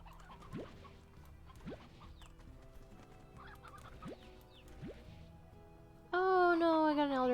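Hens in the Slime Rancher game cluck in short chirpy calls scattered through a steady ambient bed, then a loud tonal game sound cuts in at the end.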